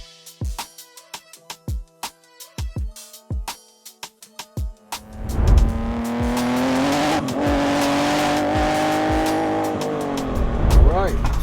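A 530hp big-turbo BMW sleeper starts with sharp clicks and knocks, then its engine fires and holds a loud, steady drone with rising and falling revs, close up from inside the cabin.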